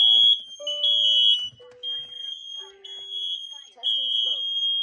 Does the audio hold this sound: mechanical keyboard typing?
no